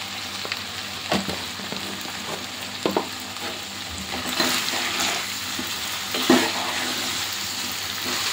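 Cauliflower and potato pieces fry in oil with turmeric and salt for a curry, giving a continuous close sizzle broken by a few sharp stirring knocks and scrapes, with no voices.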